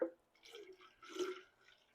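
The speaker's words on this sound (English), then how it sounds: "we're going to take some of our water and we're going to add it into the jar." Water poured from a container into a glass jar for home winemaking, with short soft splashing and trickling bursts.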